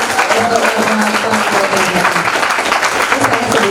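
A studio audience at a televised talk show on depression applauds a guest speaker, with loud, dense, continuous clapping and no talking.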